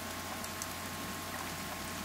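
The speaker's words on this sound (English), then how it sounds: "and it is raining" Steady, even rain hiss with a soft patter, continuous and moderately loud, with no voices, falling in the video game The Forest.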